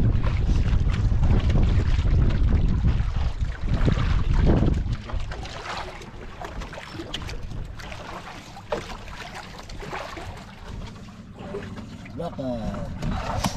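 Strong wind and waves at sea around a small fishing boat, with loud buffeting wind rumble on the microphone and water wash that eases after a few seconds, while someone talks over it.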